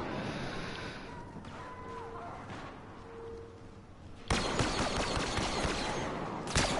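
Rapid blaster fire from a Star Wars Battlefront II weapon, a burst of dense crackling shots that starts abruptly midway and continues loud to the end, after a quieter stretch of game ambience with tonal hums.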